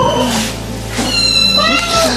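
Devon Rex kittens in a cattery give several short, high meows in quick succession, close up and fairly loud.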